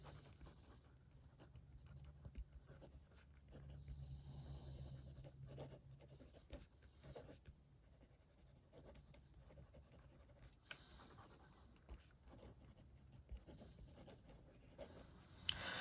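Jinhao 20 fountain pen nib scratches lightly across paper in quick, faint strokes with a soft rasp, steady and close, with no talking.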